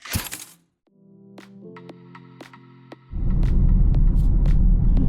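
A car drives past Swamp Canyon in Bryce Canyon National Park, heard from inside as a low, steady road rumble that swells loud after a quiet hum, with sharp clicks and ticks scattered throughout.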